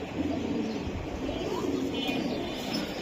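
Pigeons coo and murmur softly and steadily at a Bangladeshi pigeon market, among Hammer and Silver Giribaz birds, under a continuous background of crowd noise.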